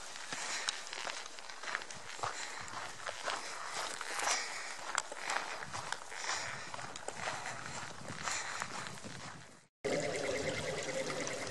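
Water flows and trickles at a creek crossing on a desert trail in the Superstition Mountains. It is a steady, moderately loud wash that blends with footsteps and wind noise, and a brief dropout comes near the end.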